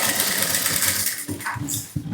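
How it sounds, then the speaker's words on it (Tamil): Sewing machine stitching around a sweetheart blouse neckline, a fast continuous whirring run that stops briefly and restarts in short bursts, close and clear. "தையல் போட ஆரம்பிக்கணும்."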